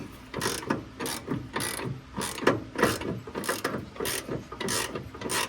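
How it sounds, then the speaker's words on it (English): A ratchet and wrench work on a sway bar link bolt on a Mazda Miata, producing close, rapid bursts of ratchet clicking in repeated strokes, loud and alone. "Put a wrench on this side and a ratchet over here."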